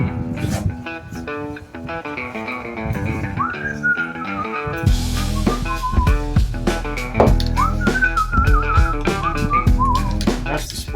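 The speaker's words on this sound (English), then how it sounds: "That's me whistling Dixie or something." Someone whistles a melody, its bright wavering notes rising over loud, steady background music with a heavy beat throughout.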